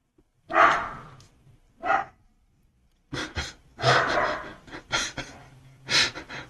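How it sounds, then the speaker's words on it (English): An irate puppy lets out several sharp, close barks and huffs in separate bursts, with short quiet gaps between them. "We have an irate puppy."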